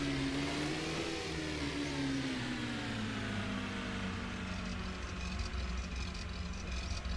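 A sedan engine in The Long Drive video game revs steadily and close up, its droning tone rising and dipping slightly in pitch as it runs on alone.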